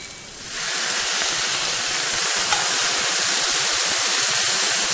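A gravy mixture is fried in a hot pan with a sudden loud sizzling hiss that starts near the beginning and holds steady and close, with no speech.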